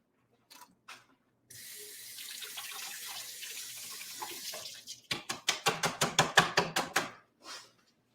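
A knife chopping strawberries on a board, a quick run of about a dozen rhythmic, close cuts after a stretch of running tap water.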